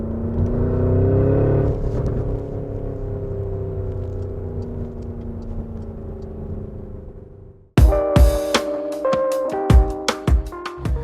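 A 2022 Porsche Cayenne Turbo GT SUV drives with a rising engine drone that builds for several seconds, then stops abruptly and gives way to a string of sharp clicks and tones.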